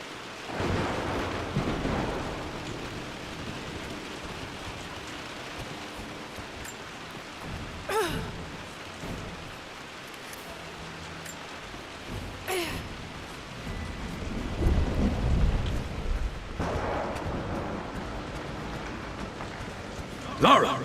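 Rain falls steadily on Croft Manor in the game Rise of the Tomb Raider, with several rolling thunder rumbles and a few sharp cracks, under occasional talking.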